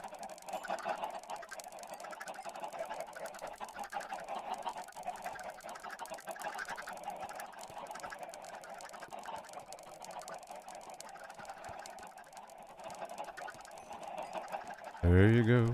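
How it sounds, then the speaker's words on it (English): Chickens clucking and squawking in Minecraft while being fed, a continuous chatter of fowl calls holding at moderate level for several seconds, with a sudden louder sound at the very end. "Right now, I'm feeding the chickens."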